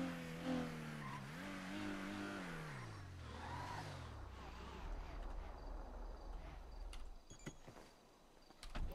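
A car in GTA 5 revs and drives with a falling engine whine, followed by rougher tire noise and faint skids, heard under some background chatter.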